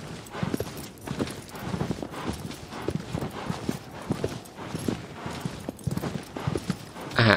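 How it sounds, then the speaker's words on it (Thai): A horse gallops in Shadow of the Colossus on PS4, rapid rhythmic hoofbeats close and steady throughout, with no talk. "เร่งฝีเท้าม้า"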